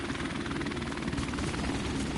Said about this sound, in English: Thank God my chopper just saved me